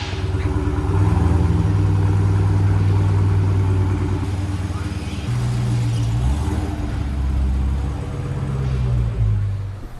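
A Dodge Challenger Hellcat drives along with a deep, steady engine rumble heard from inside the car, its pitch shifting as it changes speed, with no talking.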